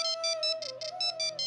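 A phone ringtone plays a repeating electronic melody of bright pulsed tones, close and clear with no talking.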